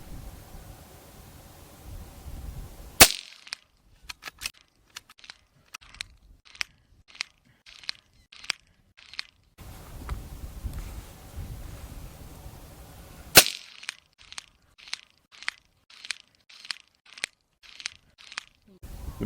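Sharp, loud cracks from a .22 Magnum rimfire rifle with the muzzle brake removed, two strings of evenly spaced shots about half a second to a second apart, each string opened by a heavier blast, with quiet gaps between.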